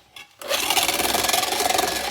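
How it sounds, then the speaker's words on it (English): Electric hand mixer whipping egg whites for aebleskivers, starting abruptly after a brief quiet moment and then running steadily with a fast pulsing whir and rattling beaters, loud and close, no talking. "I'm going to start by whipping up the egg whites."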